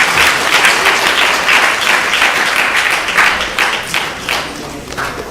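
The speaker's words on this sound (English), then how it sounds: "So big round of applause to them." Audience applause at a japa retreat honoring sponsors, dense loud clapping from a crowd sustained for several seconds and tapering slightly toward the end.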